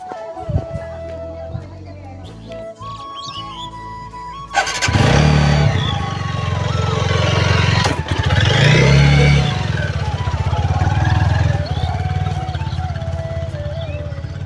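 A motorcycle ridden along a raised path between fields starts up and then runs loud and close with a steady engine drone and brief revs, after quieter moments with faint voices.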